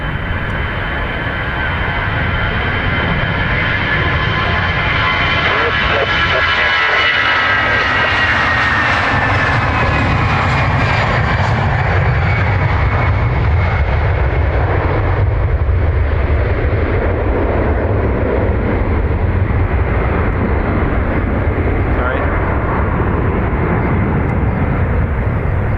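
Aer Lingus jet airliner in a Rugby paint scheme at Dublin Airport on the north runway, its engines roaring loud and steady and close, holding a broad whining rumble throughout.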